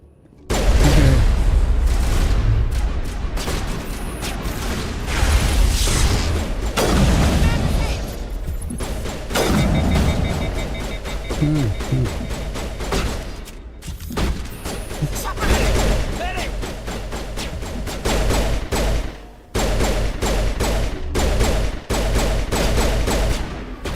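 Gunfire and explosions from a Mass Effect Legendary Edition firefight, with dense rattling bursts and heavy booms running almost continuously and loudly, briefly easing around the middle before the shooting resumes.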